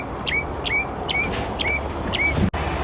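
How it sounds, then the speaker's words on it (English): A songbird sings on the first day of spring with a run of quick, rising chirps about every half second, fairly close and clear, then a sharp knock. "This bird. Is it spring? We hit the first day of spring, so it's time to sing."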